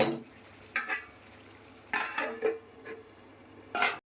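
A lid is set over a cooking pot of small fish and vegetables, giving several close metallic clanks and scrapes in short bursts, with faint sizzling underneath between the knocks.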